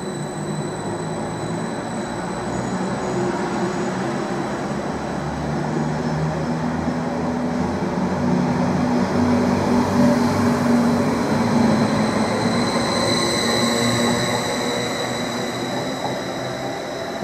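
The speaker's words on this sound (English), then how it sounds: "M45009 is running in reverse formation, now departing, continuing its journey to Norwich." A Greater Anglia Class 745 electric multiple unit, running in reverse formation, pulls away toward Norwich with a steady, loud rolling rumble and a rising traction hum that holds evenly throughout, no voices.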